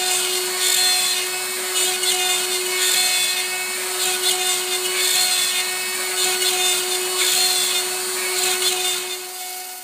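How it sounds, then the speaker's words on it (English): An X-Carve CNC router mills holes and slots into a wooden guitar neck blank, giving a loud, continuous high spindle whine with steady tonal hum and rhythmic cutting pulses, easing slightly at the end. "I started the neck shaft by milling 4 1/4 inch diameter holes to be used with my pin alignment system."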